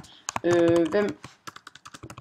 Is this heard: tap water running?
no